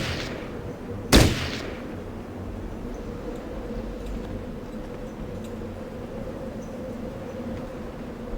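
Gunfire from a machine gunner in the Fallout Tactics video game, set in Kansas City: a single sharp loud burst near the start, then a steady low rumbling background with no further shots.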